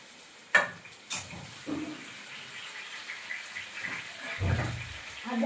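A home cook stirs food frying in a pan for a Bengali family meal, a soft steady sizzle with a few sharp scraping stirs and clinks, faint and close, with no one talking.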